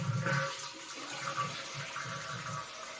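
A toilet tank refilling with water after the chain is pulled, a steady quiet hiss and trickle of inflowing water with a soft, continuous rushing tone throughout.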